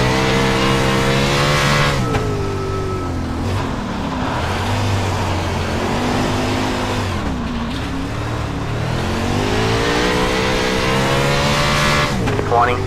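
A USAC sprint car in the iRacing sim revs hard and continuously, its engine pitch climbing and dropping through repeated throttle bursts, loud and close with a voice talking over it.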